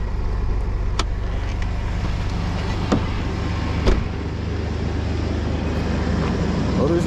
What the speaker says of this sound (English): Motor's in good shape. Sounds really good.